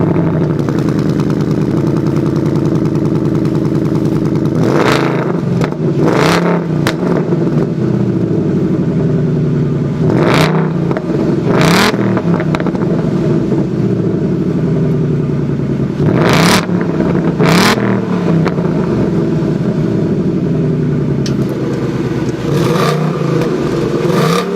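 A 2018 Ford Mustang GT with an electronically baffled exhaust, its V8 idling steadily and then sharply revved several times in short bursts, loud and close, with no talking.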